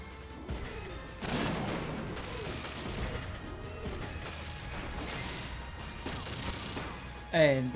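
Shotgun blasts and impact crashes in the tactical mech game Front Mission 3, a few heavy bursts spaced over several seconds amid game effects and a sharp swell near the end.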